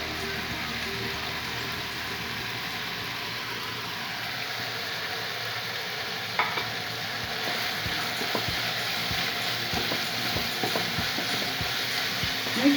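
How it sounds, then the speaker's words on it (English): Beef samosa filling with spices sizzles steadily in a pan, with occasional scrapes and knocks of a stirring spoon adding short accents over the constant frying hiss; no one talks. "Make sure you stir properly so the spices goes everywhere."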